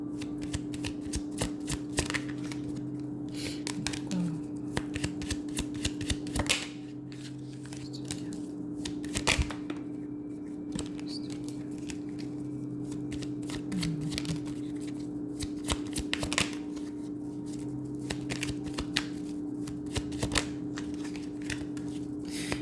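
Oracle cards are shuffled by hand in a quiet room, giving repeated soft riffling and slapping bursts over a low steady hum, with no voices.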